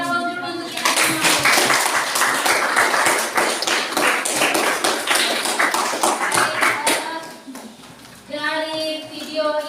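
A classroom of students claps together in loud, dense applause for several seconds, tapering off near the end as a voice and children's chatter return.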